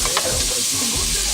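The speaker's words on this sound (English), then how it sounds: "get the onions in the pot. Give it a little stir there" Onions sizzling in butter in a pot while being stirred, a short burst of crackling fry with scraping stir sounds, close and alone.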